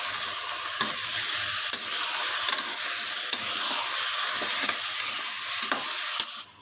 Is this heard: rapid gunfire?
no